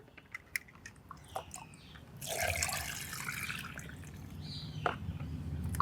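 Ground bitter gourd paste diluted with water is poured through a strainer: a few light drips and taps, then a sustained wet splashing trickle that continues to the end.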